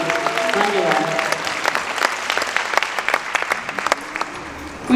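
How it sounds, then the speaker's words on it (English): An event audience at the Queens Museum in New York claps in sustained applause, a dense crackling wash of many hands that thins into scattered claps toward the end. "Please give them a round of applause"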